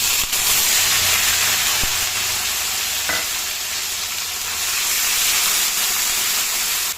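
Paste of ground boiled onion hits a hot pan and sets off a loud, steady sizzle and hiss, with a sharp clink of a utensil early on and a short scrape midway, close up.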